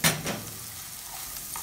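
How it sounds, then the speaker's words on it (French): Onions chopped into small pieces hit a pan of melted butter with a quick clatter, then settle into a steady, close sizzle of frying. "Ensuite, je vais y ajouter mes oignons découpés en petits morceaux."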